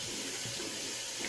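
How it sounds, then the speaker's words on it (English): Hot water running steadily from a bathroom tap into a sink, a soft continuous splashing stream heard up close with no voices. "So I gotta sit here and run it so I can refill the sink up with hot water"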